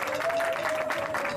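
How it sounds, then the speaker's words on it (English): Audience applause for a guest at a tribute ceremony for a pop singer, a brief burst of steady clapping from a crowd, fairly close, with a sustained tone running underneath. "Please give him a big round of applause."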